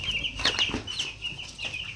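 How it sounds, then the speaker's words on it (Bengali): Newly arrived farm chickens cluck nearby in a series of short, repeated calls with a faint rustle of movement. "আসলে আমরা কিছু মুরগি নিয়ে আসছি আমাদের খামার স্টার্ট করার জন্য"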